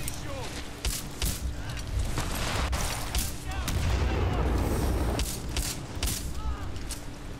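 Rapid gunfire and shotgun blasts from the fast-paced first-person shooter Titanfall 2 on PC, dense repeated bursts and booms layered with game effects under a talking player.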